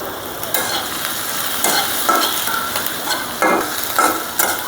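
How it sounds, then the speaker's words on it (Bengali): Chopped onion, garlic and green chili frying in oil in a kadai, a loud steady sizzle close by with periodic swells as the pieces are stirred and scraped. "কড়াইতে তেল দিয়ে দেবো পেঁয়াজ কুচি, রসুন কুচি, কাঁচামরিচ কুচি"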